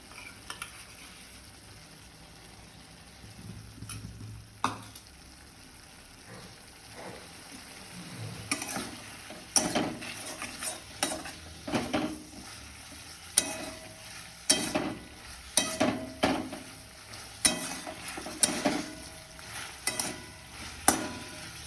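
Ginger-garlic paste frying in a pan for a pointed gourd and prawn dish, starting as a soft sizzle, then joined by repeated sharp spatula scrapes and stirs growing louder and more rhythmic.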